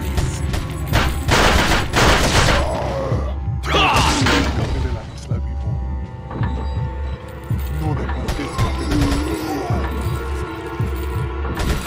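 Gunfire in Resident Evil 4 HD within a castle area, sharp shots cutting through a low throbbing game soundscape, with a player talking between the bursts.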